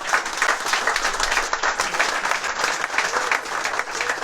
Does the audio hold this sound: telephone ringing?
no